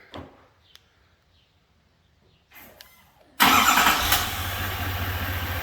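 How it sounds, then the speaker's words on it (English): A 2021 Chevrolet Silverado 2500HD Duramax diesel remote-starting outdoors: a few faint clicks and a short whir, then the engine catches abruptly into a loud, broad, high-pitched idle that holds steady. "You just hear that little bit of a whirl when you start the diesel for the first time"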